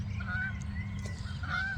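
Geese honk faintly in the distance at a campground, a couple of drawn-out calls over a low, steady rumble.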